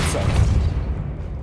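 In Hogwarts Legacy, the Depulso force spell lands as a short, deep boom with a brief whooshing burst, fading quickly over about a second.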